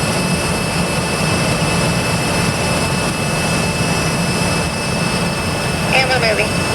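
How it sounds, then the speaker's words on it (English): NASA Crawler Transporter 2 at Kennedy Space Center beginning to roll: a steady, loud mechanical drone with a low rumble and a constant high whine, continuous and unchanging throughout. "And the crawler's getting ready to roll."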